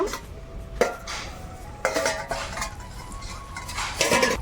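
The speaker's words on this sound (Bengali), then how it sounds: "এবার আমি চাপা খুলে দেখে নেব।" Metal pot lid lifted off a pot of mixed vegetable labra cooking on the stove, with clattering metallic clinks and scrapes in a few sharp bursts over a steady low hiss, close and moderately loud.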